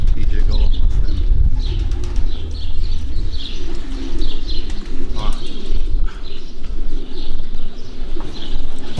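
Racing pigeons arrive at a home loft after a 340 km race from Torgau, with soft cooing, scattered wing flaps and chirps over a low outdoor rumble and intermittent nearby voices.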